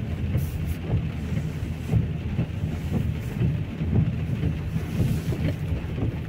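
Steady heavy downpour over Lewsey Farm in Luton, a broad constant roar with slight gusty swells throughout, no talking.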